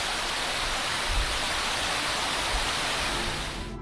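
Hurricane Fiona storm surge and flooding at Port aux Basques, Newfoundland, heard as a steady, loud rushing roar of churning water that carries on without a break and fades slightly at the end, with no voices.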